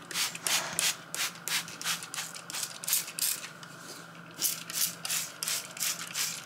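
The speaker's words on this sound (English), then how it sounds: "I'm gonna go ahead and spray them now with this spray" Rapid bursts of hissing spray repeat in a steady rhythm, close by, each puff a short airy spritz of rum and wine onto Christmas black cakes, with brief gaps between them.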